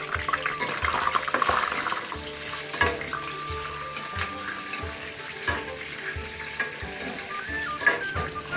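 Cashews and raisins fry in sunflower oil with a continuous crackling sizzle, stirred now and then with soft scraping knocks, steady and close throughout.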